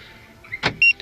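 A car's Starline alarm locks the doors with a short mechanical clunk followed by a brief electronic chirp, quiet and close, with no talking.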